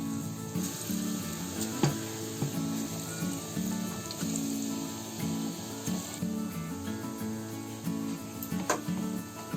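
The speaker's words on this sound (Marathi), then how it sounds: "आणि तुपामध्ये आपल्याला भजी सारखं तळून काढायचं आहे." Small balls of gram-flour batter fry in hot ghee for boondi laddu, a steady close sizzle and crackle running throughout with occasional light ticks of a spoon.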